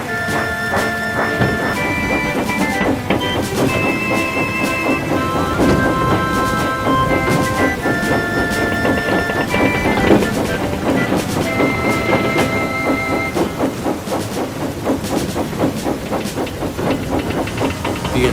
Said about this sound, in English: So with a hiss and a clank, the brave little engine set off for the cliffside.